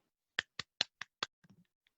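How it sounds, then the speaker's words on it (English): At a small .NET meetup, a few sparse, distinct hand claps ring out close by, about five in a row, followed by faint trailing taps. "I think perhaps a round of applause would be good."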